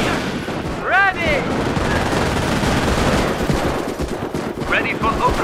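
Gunfire in the Company of Heroes World War II strategy video game, Battle of the Bulge mod: sustained rattling machine-gun and rifle bursts throughout, loud and close, with soldier voice chatter over the battle din.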